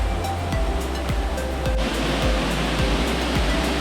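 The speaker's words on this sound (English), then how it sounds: "And here we are, we've made it to the waterfall." A waterfall in the Mindo cloud forest pours with a loud, continuous broadband rush, close by and steady throughout, with no voices over it.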